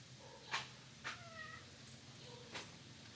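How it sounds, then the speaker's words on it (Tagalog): A cat at a house in San Antonio, Zambales, gives several short, faint meows spaced about half a second apart over a low steady background hum. "Pusa, oh."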